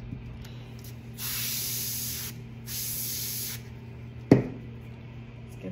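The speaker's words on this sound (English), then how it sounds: "maybe spray some of this. It's a fine mister and I hold it back a bit." A fine mister sprays alcohol ink in two steady hissing bursts of about a second each, held back from the work, followed by a single sharp click; the spray is close and clear over a faint background hum, with no talking.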